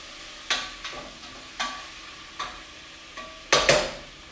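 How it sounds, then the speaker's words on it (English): Food sautéing in a hot pan over lowered heat, with a repeating scrape of a utensil stirring it roughly every second over a faint steady sizzle, close and fairly quiet, with no voices. "Lower the heat a little bit on this. Let it actually get sauteed."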